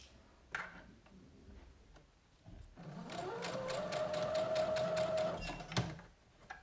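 A sewing machine stitching the pleats of a skirt runs in a close, rapid clatter for about three seconds after a quiet stretch of light handling noises, then stops with a clunk.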